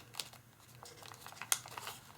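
Paper being folded for an origami Thanksgiving turkey, with soft close crinkles and small creases and one sharper crackle, all faint.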